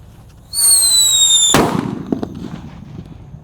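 A jumbo red Pearl Thunder firecracker is lit. Its fuse fizzes with a high whistling hiss for about a second, then it goes off in one loud, sharp bang, and the blast rumbles as it fades outdoors.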